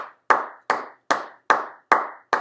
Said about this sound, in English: So let's start with a nice clap.